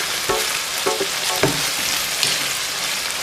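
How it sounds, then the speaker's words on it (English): Red wine vinegar stirred into a simmering ragù in a pan, producing a loud, dense sizzle with several rhythmic scraping knocks of the spoon in the first half, close and with no voices. "Then stir everything together."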